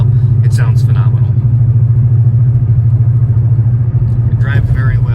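A car engine droning steadily at normal driving speed, a loud low hum that holds constant throughout, with faint voices briefly at the start and end.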